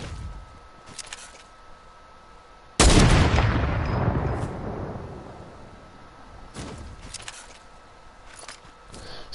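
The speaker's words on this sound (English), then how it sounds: "Someone else sniped him." A single sharp, loud sniper rifle shot in a shooter game, cracking suddenly and then trailing into a long rolling echo that fades over several seconds, with faint clicks before and after.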